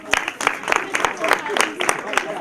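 Children applaud in a short burst of quick, uneven hand claps in a room. Voices talk and call out under the clapping.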